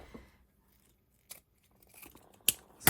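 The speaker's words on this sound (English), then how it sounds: "So my fabric scissors here" Fabric scissors snipping through material at a crafting table, a few quiet separate cuts: a faint snip near the start, another around the middle and a sharper, louder pair of snips toward the end, with near silence between.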